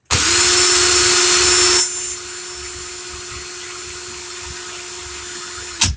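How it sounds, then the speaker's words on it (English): A power drill running in reverse while building a vape coil whines loudly at a steady high pitch for about two seconds, then drops to a lower, quieter hum before a brief final rev. "And now I'm going to put my drill in reverse."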